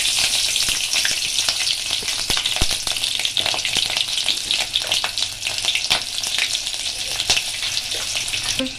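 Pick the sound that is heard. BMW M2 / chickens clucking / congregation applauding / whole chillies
whole chillies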